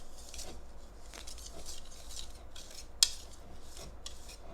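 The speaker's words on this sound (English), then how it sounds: "I'm going to put that in a bowl, and then we're going to whisk that together" Cocoa powder being whisked in a bowl: light, quick metallic tapping and scraping of a whisk against the bowl, fairly faint, with one sharper clink near the end.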